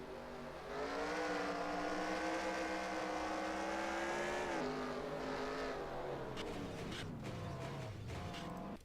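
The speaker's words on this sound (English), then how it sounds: "Go on board Jeff Bright, the number 5 car, second in points coming to this day" Simulated stock cars roar in a NASCAR Racing 2003 race at the Sharpie 500, with several engines droning loudly together at a steady high pitch, then dropping and rising again as cars slow and accelerate near pit road.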